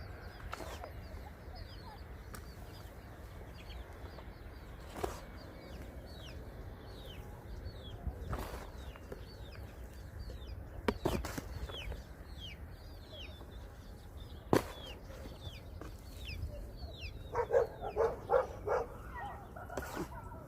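An outdoor garden mix of distant birds chirping, faint dog calls and soft chick clucks, with a few sharp knocks over a low steady hum.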